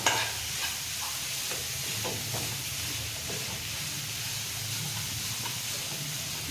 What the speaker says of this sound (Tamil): இந்த மசாலாவை இந்த மாவில் சேர்த்துக்கிறேன்